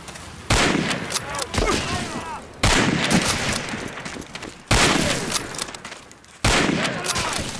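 Gunfire in the Medal of Honor: Spearhead video game, a slow-firing weapon: four heavy, loud shots at spaced intervals, each with a sharp attack and a long ringing decay, and no talking.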